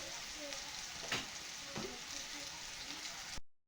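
Cauliflower fries in a pan with turmeric and chilli, giving a steady, fairly faint hiss with a couple of soft stirring scrapes before the sound cuts off abruptly.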